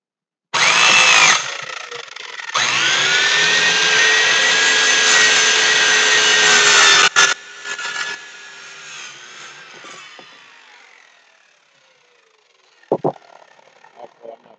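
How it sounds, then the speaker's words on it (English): Power saw cutting wood at a whiskey distillery, a loud, steady high whine through two long cuts that winds down and fades, ending with a few faint knocks. "Yes, I am practicing safe sawing"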